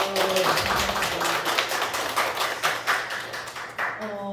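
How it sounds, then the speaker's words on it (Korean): Audience applause after a lecture on preventing and healing teacher burnout at a Seoul middle school, a dense run of many hands clapping that fills the room steadily, with brief speech at the start and end. "다시 한번 강사님 좋은 강의 박수 부탁드립니다"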